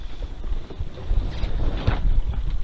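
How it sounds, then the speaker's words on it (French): Strong wind of about 10 knots buffets a sailboat during an Atlantic trade-wind crossing, gusting roughness and microphone rumble against a constant low wash of sea and rigging. "elles sont fortement gonflées par ce vent de fou"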